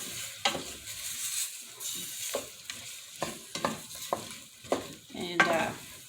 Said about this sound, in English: we're going to let them saute for just a little bit